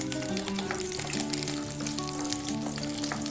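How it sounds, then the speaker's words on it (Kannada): Drumsticks frying in oil over a high flame, a dense, continuous sizzle of popping and crackling, close and steady throughout, with no voices. "ಒಂದು 2 ರಿಂದ 3 ನಿಮಿಷ ನಾವು ಹೈ ಫ್ಲೇಮಲ್ಲೇ ಇಟ್ಕೊಂಡು ಇದನ್ನು ಫ್ರೈ ಮಾಡ್ಕೋಬೇಕು"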